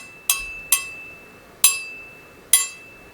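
A heat-treated fillet knife blade is tapped four times, each strike giving a bright, sustained ring that fades slowly, in an uneven rhythm with quiet between.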